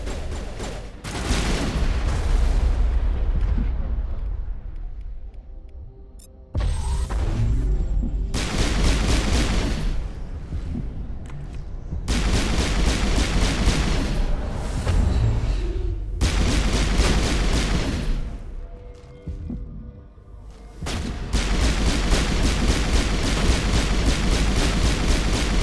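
Loud, rumbling explosions from the Mass Effect 1 video game come in long, heavy bursts one after another, filling the sound with deep booms and crackling blasts, separated by brief lulls.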